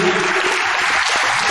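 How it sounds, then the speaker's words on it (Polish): A crowd applauds the visiting Spójnia Warszawa side at a Lotto Superliga volleyball match in Gdańsk, a dense, loud, even patter of clapping hands filling the hall. "oklaski dla gości"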